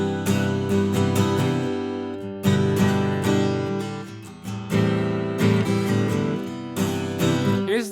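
Strummed acoustic rhythm guitar plays bright chords with clear chord changes, loud and close, heard alone with short pauses between phrases.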